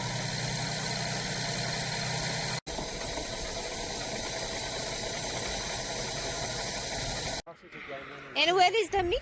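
A classic car engine idles steadily after a carburetor mixture adjustment, an even mechanical drone that cuts out briefly and then stops, followed by someone talking.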